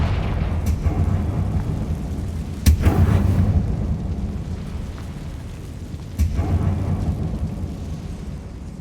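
Two heavy booming blasts from the Confringo blasting spell inside a closed, tomb-like mine in Hogwarts Legacy, each a sharp loud crack rolling into a long low rumble, spaced a few seconds apart with no talk.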